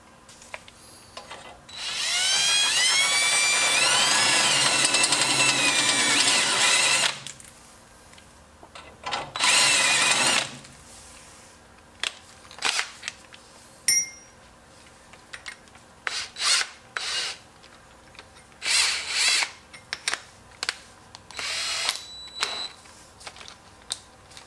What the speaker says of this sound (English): I'll start the 9/16 just to make a groove to kind of center my drill bit